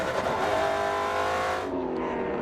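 Vintage Mustang race car at a Circuit of the Americas vintage race, engine howling loud and close as it accelerates out of a corner, pitch rising before the sound cuts away abruptly.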